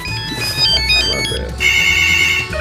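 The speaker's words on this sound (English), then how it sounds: "there goes our phone ringing again." An office phone rings repeatedly in a steady electronic trill across the whole stretch, fairly loud and near, with some background bustle underneath.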